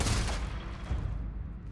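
Silenced auto rivet gun firing in Starfield, a dense, muffled burst of rapid shots that stays steady and fairly loud throughout.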